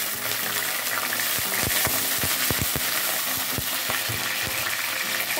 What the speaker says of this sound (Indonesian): Ini kita goreng semua bumbu kecuali cabai merah besar yang kita iris-iris tadi.